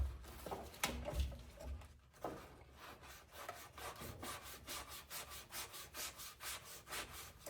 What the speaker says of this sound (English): I'm just gonna kind of, wipe that grip down using the Magic Eraser.